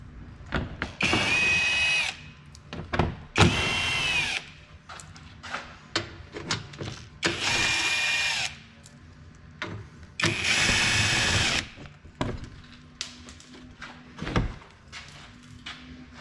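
A power tool removes 10mm bolts under a 2019 Kia Optima in four short loud whirring bursts, each a second or so, with clunks and handling noises between them.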